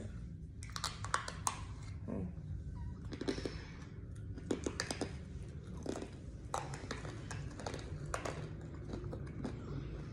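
Loud, close crunching of freeze-dried candy being chewed, in repeated irregular bites with no talking.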